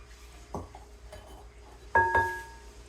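Chocolate zucchini bread batter is mixed by hand in a bowl. A few quiet clinks and knocks of a utensil against the bowl come in short bursts, with soft scraping between them.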